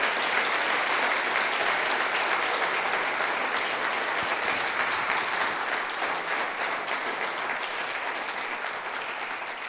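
Church congregation applauding at a Sunday service, a dense, steady wash of clapping that stays loud throughout and eases slightly toward the end, with no voices standing out.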